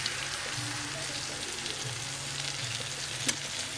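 Mustard and poppy seed paste frying in a pan, giving a steady close sizzle and crackle with a soft bubbling undertone and one brief sharp clink near the end, no voices.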